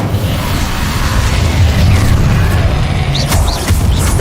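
Incendio fire spell cast in Hogwarts Legacy, a loud burst of booming, crackling energy with rumbling impacts and a few sharp whooshing effects near the end.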